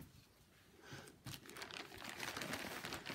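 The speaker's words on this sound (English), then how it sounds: "In my fancy plastic bag," A plastic project bag for needlework crinkles close to the microphone, soft, irregular rustles building in intensity over a few seconds, quiet overall.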